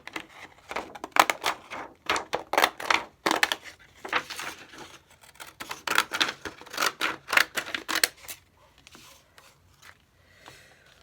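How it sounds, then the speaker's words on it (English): Scissors cut through paper ephemera for a journal in close, irregular bursts of crisp snipping and rustling, which thin out toward the end with no speech. "I'm going to cut this."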